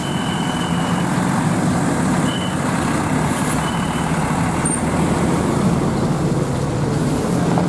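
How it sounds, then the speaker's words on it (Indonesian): A garbage truck idles near a bus terminal, its engine rumbling steadily while a few faint reversing beeps sound intermittently over busy traffic noise, with no talk. "tadi di depan ada truk sampah jadi terhambat sedikit"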